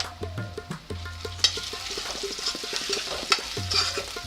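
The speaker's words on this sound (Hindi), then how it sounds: "देसी घी के साथ जो फ्राई हो रही है आपकी प्याज और लहसुन अदरक की पेस्ट" Onion and garlic-ginger paste fry in desi ghee for a Punjabi rajma, giving a steady close sizzle with a spoon scraping and stirring the pan in repeated strokes and a few sharper clinks. No one speaks.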